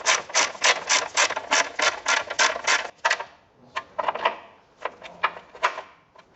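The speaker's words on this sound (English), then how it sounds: "we'll snug them up with the 12mm socket on the socket wrench" A socket wrench with a 12mm socket ratchets bolts onto the bash plate of a Toyota Land Cruiser 80 Series. A steady run of crisp, rapid clicks comes first, then shorter, spaced bursts of ratcheting, close and clear with no talk.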